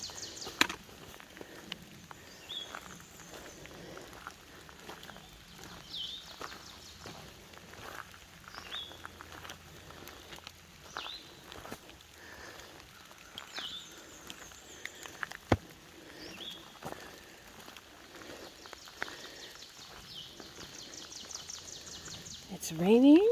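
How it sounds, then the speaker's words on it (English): Rainy morning in an Appalachian forest along the trail: scattered soft patter of drops and faint bird chirps and calls, with someone speaking quietly over the ambience and a louder rustle at the end. "Listen to the sounds of the forest this morning."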